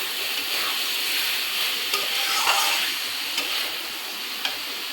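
Fried potatoes with a little sugar, hand-ground garam masala and ghee cooking for alur dom in a pan, giving a steady, fairly quiet sizzle with a few soft stirring ticks and scrapes throughout, no voices.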